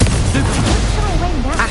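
The Incendio fire spell is cast in Hogwarts Legacy, a loud continuous whooshing roar of flame with booming, crackling energy and wavering tones, close and dense throughout.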